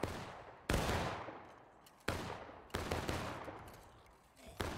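Musket volleys in the Civil War game War of Rights: four loud, sharp crackling bursts of massed rifle fire, each decaying into echoing reverberation, spaced about a second apart.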